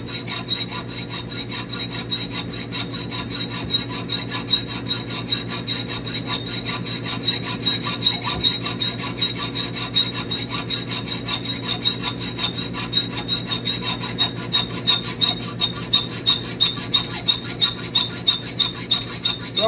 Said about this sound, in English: I'm going to run the saw back and forth parallel with that nut until it cuts off